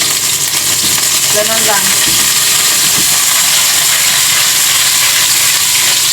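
Salmon frying in hot oil gives a loud, continuous hiss and crackle that fills the whole stretch, with a brief spoken phrase early on over the sizzle.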